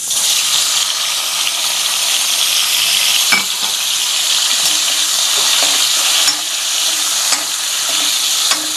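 Paneer pieces frying in hot oil for a gongura paneer dish, a loud continuous sizzle with a few sharp clinks and stirring knocks scattered through.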